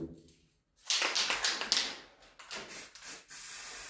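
Short bursts of an aerosol spray can hiss in a workshop while a table is being painted, several quick sprays close to the microphone with brief pauses between them.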